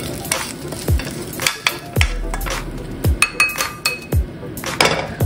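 Sautéing in a frying pan: an oil sizzle runs underneath while a utensil repeatedly scrapes and clinks against the pan in irregular strokes, close and without talk.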